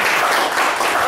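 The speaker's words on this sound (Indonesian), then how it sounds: "tepuk tangan dong" Indoor audience applause at a discussion session, a brief burst of dense clapping at moderate level, steady and short, with no talk over it.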